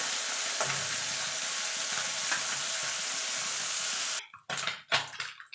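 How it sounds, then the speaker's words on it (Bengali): Small mourala fish fry in hot oil with a dense, continuous crackling sizzle close by, which breaks off near the end into a few short, uneven bursts. "মাছগুলো একটুখানি কড়া করেই ভাজবো"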